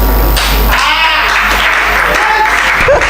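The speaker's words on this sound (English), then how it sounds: "Another round of applause, please" A live audience at a poetry performance claps loudly and steadily throughout, with crowd noise and a brief high whistle or cry near the end.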